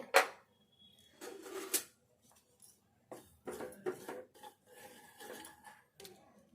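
Poppy seeds roasting in a pan for a traditional raw fish curry, stirred with a metal spoon. Scraping and clinking strokes come in irregular bursts, close and fairly quiet, with faint rustling between them.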